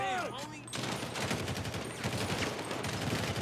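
Gunfire during a night-time SWAT shootout in a Los Santos ghetto in GTA 5 with the LSPDFR mod, a steady rattle of rapid shots throughout, with a voice briefly heard near the start.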